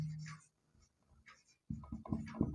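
Numbers written by hand during a math lesson give soft, brief scratching strokes in short bursts, quiet and close, with faint murmuring between them.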